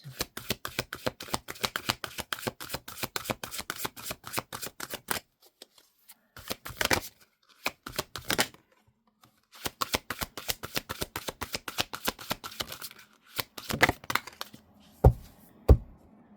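Tarot cards shuffled in rapid riffling bursts, with long runs of crisp flicking broken by brief pauses and a few soft thumps as the deck is squared, close and with no voices.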